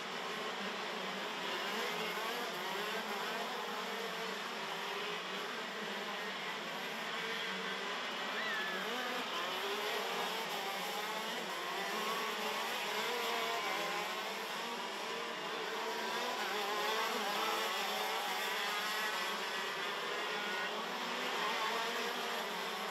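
KZ2 racing karts at full throttle during a race at Genk, a continuous distant buzzing whine of many two-stroke engines blending together, steady and fairly faint throughout.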